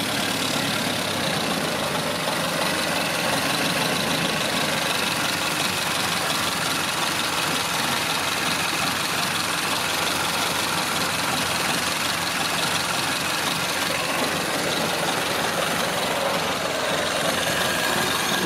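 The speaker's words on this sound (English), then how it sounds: "Should I turn that idle down a little bit?" An engine idles steadily and continuously for the whole stretch, a constant mid-level rumble with no change in pitch and no voices.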